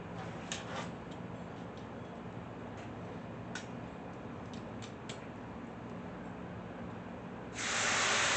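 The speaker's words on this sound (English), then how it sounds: "Oh yeah, there's that sizzle. Love to hear that sizzle." Chicken sizzles on a hot Blackstone flat-top griddle in a soft, steady hiss with occasional light ticks, then a sudden louder spray of hissing near the end.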